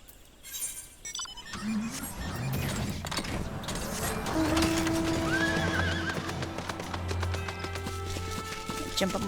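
A horse mount in Final Fantasy 14 gives a loud whinny, followed by clip-clopping hooves and a second drawn-out neigh, close and prominent over game sounds.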